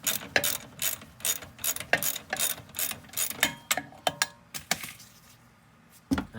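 A ratchet clicks in quick irregular bursts while an 18 mm nut on a Buick Lucerne front control arm is worked loose, close and fairly loud, with short pauses between strokes.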